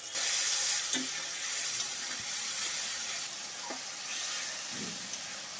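Spice paste mixed with water sizzling and hissing steadily as it hits tomato and onion in a hot pan for a Bengali pabda fish curry, with a few soft stirring clicks, close and continuous.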